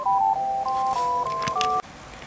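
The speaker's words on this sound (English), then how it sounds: "I'm getting a phone call." An incoming call rings on a telephone as a melody of stepped electronic tones, close and clear, that plays for just under two seconds and then cuts off abruptly.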